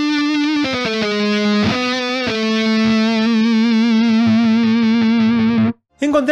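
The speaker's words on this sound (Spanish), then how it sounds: "Podríamos escuchar un poco cómo suena si la pasamos por un simulador de amplificador para que no suene tan limpia." A virtual guitar instrument played through an amp simulator gives continuous distorted, chorus-tinged chords and sustained notes, loud and upfront, with a brief cut near the end before playing resumes.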